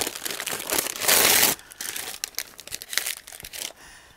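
Thin sublimation wrap peeled off a freshly heat-pressed tumbler, a close crinkling and tearing rustle with a louder crackling burst midway, then scattered lighter crumples.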